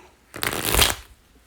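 A single quick riffle of playing cards, a crisp fluttering burst lasting under a second, close by, with quiet before and after.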